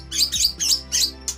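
A white-rumped shama (murai batu) gives five quick, bright chirps in a rapid, uneven series, close and clear with no voices over them.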